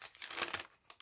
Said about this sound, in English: And this is the paper bag here.